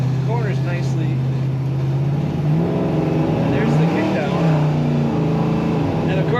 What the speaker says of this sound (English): This car, or this truck, has a nice rumble to it when you really get into it.